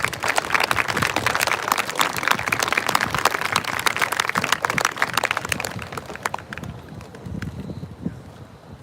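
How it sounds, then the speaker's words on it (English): Crowd applause at an outdoor candlelight vigil for the missing, honoring a police detective: sustained crackling clapping from many hands, moderately loud over wind noise, tapering off after several seconds. "Give him a round of applause."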